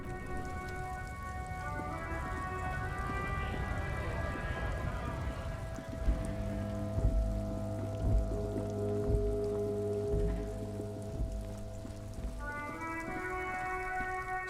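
Steady rainfall in the video game Disco Elysium, a constant patter on surfaces beneath layered tonal music that swells midway, with no one speaking.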